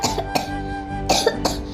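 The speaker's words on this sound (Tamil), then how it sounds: "எதுக்குதான் இந்த இருமல் இப்படி வருதுன்னே தெரியல." Several sharp coughs in quick succession, close and fairly loud, with brief gaps between them.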